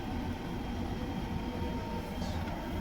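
Steady low rumble and rattle of a moving train from Maharashtra to Telangana heard from inside, continuous and even throughout with no talking.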